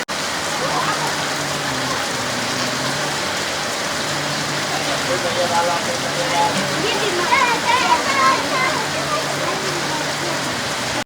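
Heavy rain falls as a loud, dense, unbroken hiss of drops striking surfaces, steady throughout, with faint voices murmuring underneath.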